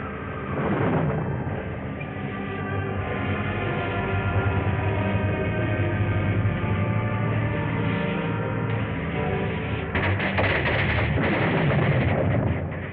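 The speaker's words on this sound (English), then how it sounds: "Tower's taking off." A deep, continuous roar and rumble as the Atlantis tower lifts off in a 1936 science-fiction serial, loud and sustained for the whole stretch, swelling with rougher bursts near the end and no voices.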